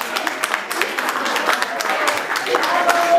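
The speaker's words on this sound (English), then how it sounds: "So big round of applause for Elaine," An audience applauding choir singers at a local vocal competition finale, steady close clapping that swells toward the end, with voices mixed in.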